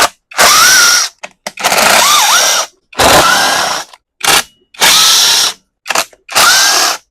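A power tool removes 10mm bolts from a Ryobi pressure washer with a Honda GCV200 engine, running in seven loud whirring bursts separated by short pauses, with a rising pitch as each bolt spins free.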